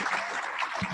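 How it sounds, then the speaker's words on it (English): Applause at a hybrid Rotary club meeting for a coach, a short burst of dense, even clapping from a small in-person crowd, fairly close and steady. "how about a nice round of applause, both virtually and in person"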